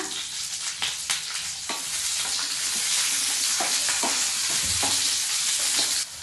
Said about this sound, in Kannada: ಸ್ವಲ್ಪ ಕ್ಯಾಪ್ಸಿಕಮನ್ನು ಹಾಕೊಳ್ತಾ ಇದ್ದೀನಿ ಸ್ವಲ್ಪ ಇದನ್ನು ಲೈಟಾಗಿ ಫ್ರೈ ಮಾಡ್ಕೊಳ್ಬೇಕು